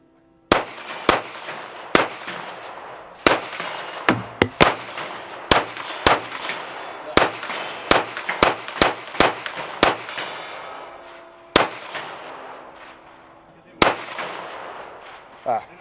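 Suppressed shots from new CMMG guns in 8.6 Blackout ring out close and loud, a string of sharp cracks at irregular intervals, some in quick bursts and others spaced apart, with faint ringing between them.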